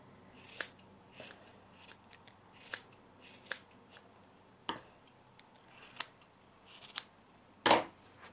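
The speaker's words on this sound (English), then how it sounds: "check any extra strands you need to cut" Scissors trim stray yarn strands from a pompom with about a dozen crisp, close snips at an uneven pace, one louder cut near the end, no voices.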